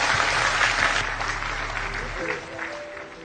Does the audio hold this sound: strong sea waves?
no